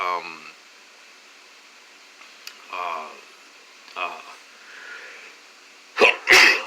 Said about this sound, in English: Now they'll probably make me have a sneezing fit.